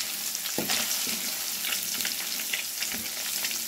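Fish pieces frying in oil in a pan, a bright sizzle broken by several louder bursts and stirring scrapes, close and steady, with no talking.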